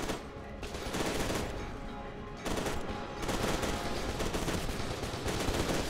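Sustained automatic gunfire from the shooter game F.E.A.R. 2, dense rapid bursts of shots with a brief lull partway through, loud and continuous with no talk.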